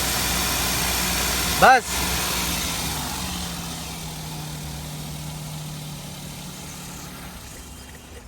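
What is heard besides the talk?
Maruti Suzuki Alto LXi petrol car engine revving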